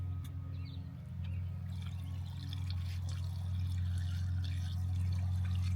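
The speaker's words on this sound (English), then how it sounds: "Okay, it's time to add coolant." A half-and-half mix of coolant and distilled water poured from a jug into the cooling system of a Nissan R34 Skyline with a rebuilt RB25DET engine, a steady liquid gurgle over a low continuous hum that gradually swells.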